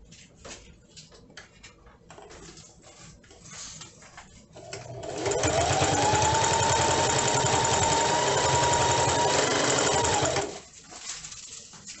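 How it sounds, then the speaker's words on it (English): A sewing machine stitches a seam on a homemade plastic bag holder, running in one steady, loud, continuous burst for about five seconds after quieter handling noises, then stopping. "you're just gonna line it up and sew your seam, stopping every so often and lining up."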